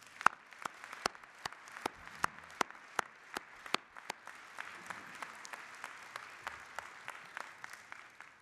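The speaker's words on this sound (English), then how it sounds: "an early morning round of applause for the true founder, Laura Ellsworth." Conference audience gives an early morning round of applause, a sparse, steady patter of claps from a small group, fairly faint and evenly paced, with a few sharper claps standing out.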